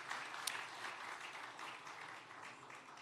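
An audience at an event gives a sustained round of applause, steady but fairly faint and distant, fading slightly toward the end.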